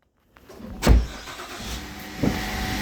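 A car engine cranks briefly after a fresh battery install and then catches, with a sharp start-up surge followed by a second bump settling into a steady running hum nearby.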